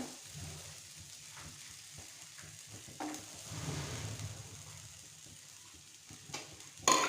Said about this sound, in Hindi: ऑयल हमारा गर्म हो चुका है। तो अब इसके अंदर एक मीडियम साइज़ की आलू थी जिसे मैंने क्यूब शक्ल में काट लिया।